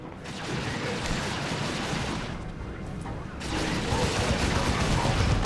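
An Assault Cannon Dreadnought in Dawn of War II: Retribution pours rapid, continuous cannon fire against Imperial Guard Catachans, a dense rattling barrage with a brief lull before the firing resumes, mixed with battle noise.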